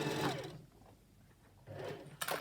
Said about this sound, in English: I machine stitched here, and then I start machine stitching here.